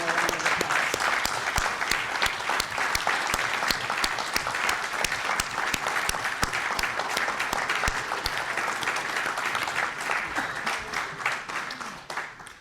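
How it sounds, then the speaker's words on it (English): Sustained applause from a seated symposium audience, dense rapid clapping at full strength for most of its length before tapering off at the end. "let's give them one more round of applause."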